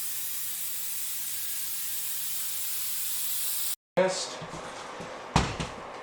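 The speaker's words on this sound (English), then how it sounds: "give it one light spray down on all the plants before we lock them up" Steady, loud hiss of a spray bottle misting plants in a venomous snake's cage runs continuously for several seconds, then cuts off, followed by a couple of faint knocks and handling sounds.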